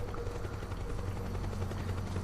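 A helicopter in the video game Metal Gear Solid 4 drones loudly and steadily, a dense low rotor thrum with a rapid pulsing beat filling the whole moment without speech.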